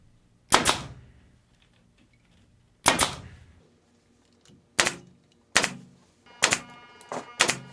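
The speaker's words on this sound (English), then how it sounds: "I'm going to try and get 2 staples into each of these side by side" Staple gun driving staples through wide pocket tabs of a pool table cloth on the underside of the table, six sharp loud snaps spaced irregularly, two early and well apart, the last four closer together.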